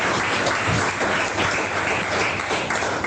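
Church congregation applauding during a Portuguese-language sermon, dense continuous clapping from many hands filling the room, steady and fairly loud throughout.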